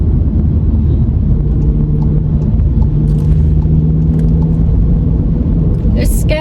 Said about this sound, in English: Coming onto a motorway section, and I'll show you the acceleration on it.